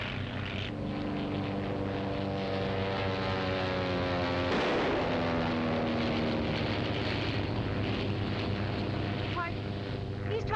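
A propeller airplane flies past in an old Hollywood film set around Shanghai, a loud, steady engine drone whose pitch bends downward midway as it passes, with no speech over it.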